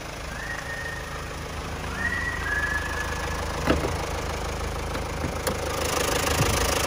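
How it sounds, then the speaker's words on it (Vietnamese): A 2008 Hyundai Santa Fe with a CRDi diesel engine and automatic gearbox idles with the bonnet open, a steady close-up drone holding even throughout, with faint clicks and no talk. "khoang máy của chiếc Hyundai Santa Fe 208 động cơ CRDi đây"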